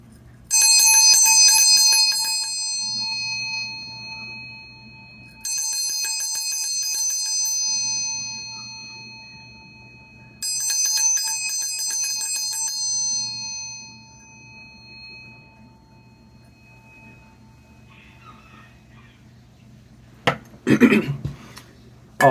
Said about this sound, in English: I will use the Vajra bell today to cleanse the space.